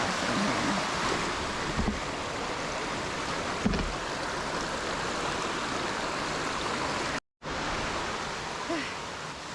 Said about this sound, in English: right off the bat, we got a river crossing here